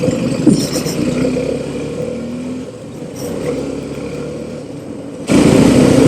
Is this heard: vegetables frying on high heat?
no